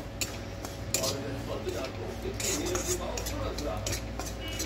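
A spoon scrapes and clinks against a pan while semolina roasts in hot ghee for suji halwa, the stirring steady and close over a low background hum.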